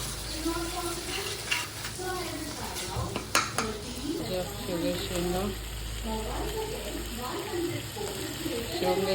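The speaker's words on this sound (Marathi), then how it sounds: "तर मसाला असं शिजतो एकदम वा" Masala frying in a pan with drumstick pods for a tangy-sweet-spicy dal, a steady sizzle with scraping and clinks of a spoon against the pan, heard under intermittent talking.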